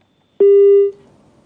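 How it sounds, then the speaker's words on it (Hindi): A single telephone line tone sounds once for about half a second on a call that goes unanswered, loud and clean, then fades into near silence. "पांडे को हम संपर्क करने की कोशिश कर रहे हैं, लेकिन फोन वो नहीं उठा पा रहे हैं।"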